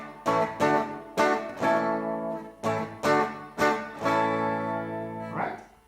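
A Soviet Ural 650 electric guitar, played on its bridge pickup through an AMT SS20 preamp with a touch of reverb, strikes a series of strummed chords, several short choppy hits then longer ringing ones, clear and close.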